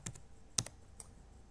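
Computer keyboard typing: a few sharp, close key clicks, two quick taps, then one louder strike and a lighter tap, in an otherwise quiet room.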